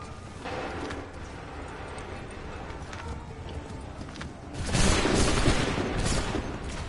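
A massed musket volley from Assassin's Creed III erupts as a sudden loud burst of crackling gunfire over a steady din of battle, horses and distant shouting voices.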